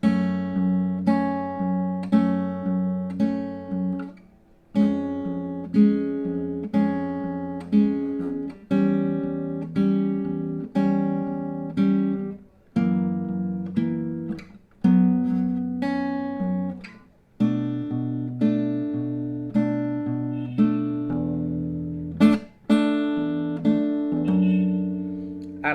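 Fingerpicked acoustic guitar plays the chorus of a song, a steady sequence of plucked chords and melody notes with brief pauses between phrases, close and clear with no talking.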